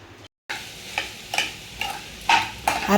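Coconut and roasted gram being sautéed in a pan for tomato chutney, with soft sizzling and a series of spoon scrapes and stirring knocks at a steady, unhurried pace, close and fairly quiet with no talking.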